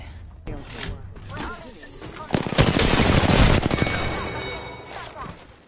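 Rapid automatic gunfire bursts from a first-person battle royale shooter, Apex Legends on the World's Edge map, crackling loud and dense in the middle stretch, with game sound effects and a voice talking underneath.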